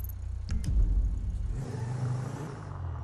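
A car in GTA Online rolls into a garage, engine revving briefly with a deep surge early on before easing into a smoother whir as it settles, no voices present.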